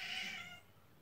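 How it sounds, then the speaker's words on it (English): A cat gives a single short meow indoors, loud at the start and fading into quiet room tone within a second. "the cat's in here today"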